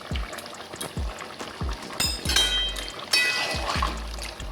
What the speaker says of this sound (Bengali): সবার শেষে 1 চামচ ঘি দিয়ে দিচ্ছি।